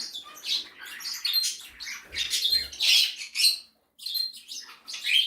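Several cockatiels, including a baby, chirp and squawk in quick, overlapping bursts close by, bright and busy with one short pause before the chatter resumes, no human speech.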